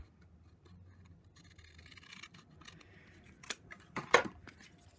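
Scissors snip through paper while making a Stampin' Up gift box, with a couple of sharp, close cuts standing out near the end over quiet rustling.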